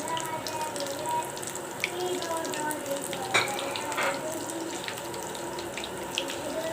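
Potato rice balls deep-fry in hot oil with a steady, fairly quiet sizzle and bubbling crackle, heard alone throughout.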